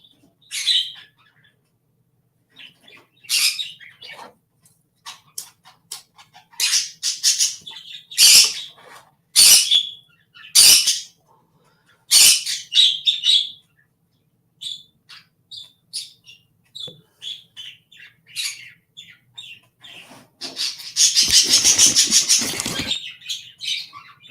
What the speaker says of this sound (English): How do the birds sound?